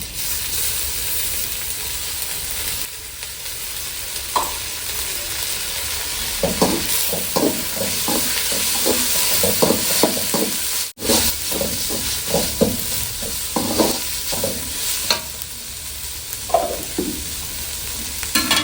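Onion sautéing with ginger and garlic in a pan for a goat head curry: a loud, steady sizzle under rapid, repeated spatula scrapes and clatters that continue almost throughout, with a brief dropout midway.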